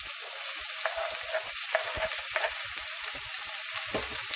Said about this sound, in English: I'm going to saute this on medium heat.